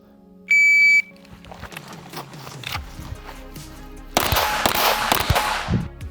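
At a shooting range training drill, a shot timer sounds a sharp electronic beep, then a rapid string of loud close gunshots follows, first scattered, then a dense burst of cracks near the end.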